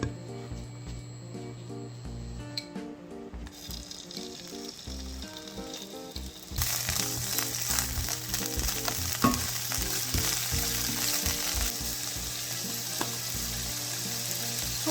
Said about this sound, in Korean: 팬이 잘 달궈졌으면 식용유 한 큰술 둘러주시고 새우를 볶아 보겠습니다.